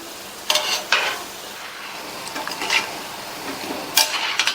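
Veg kola urundai balls of chickpea dough fry in hot oil, a soft steady sizzle broken by several short scraping stirs of a spoon against the pan, close up and fairly quiet.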